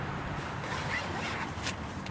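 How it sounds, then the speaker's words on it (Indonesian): The zipper on a six-year-old Arei M29 tent slides open or closed in a quiet, close, rasping zip lasting about two seconds, with no talking over it. "Resleting masih oke."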